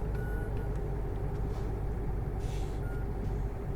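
A heavy truck in the Euro Truck Simulator 2 driving game pulls away carrying a trailer of AMD Ryzen processors, its steady low engine rumble loud and continuous, with a couple of brief high beeps and a short air hiss, no talk.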